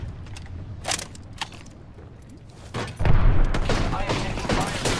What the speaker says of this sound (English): I am taking fire.